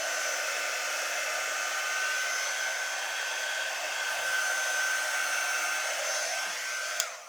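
A hair dryer blows a steady, even whoosh as it dries craft paste on a wooden tree shape, close and alone, clicking off near the end.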